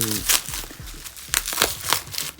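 Plastic packaging around a boxed set of manga volumes crinkles and crumples in repeated bursts while being unwrapped, close and fairly loud, with someone talking over it.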